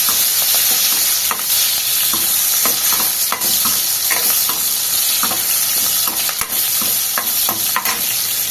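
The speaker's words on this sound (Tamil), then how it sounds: "இல்லைன்னா சின்ன வெங்காயம் நான் போட்டுக்கணும்" Onions sizzle and fry in a pan for a Tamil dry fish and field bean curry, with repeated scraping stirs of a spoon in a steady rhythm, close and loud, and no talking.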